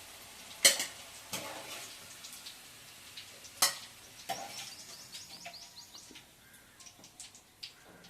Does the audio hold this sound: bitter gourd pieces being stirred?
yes